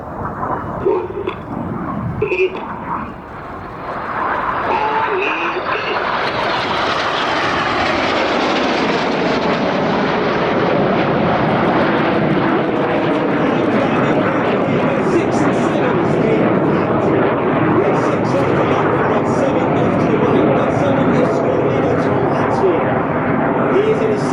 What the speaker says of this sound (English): Each pair will now dive down to approximately 100 feet above the airfield.